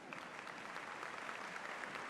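A crowd at a college commencement ceremony applauds steadily and densely throughout, a continuous wash of many hands clapping in a large hall.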